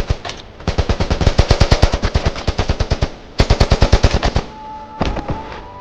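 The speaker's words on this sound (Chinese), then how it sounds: "一旁的叛军也立刻掏出 AK 火力全开" Rebels in a film fire AK rifles in long, rapid automatic bursts, loud and close. A short pause breaks the shooting before another burst and a few final shots, with no voices.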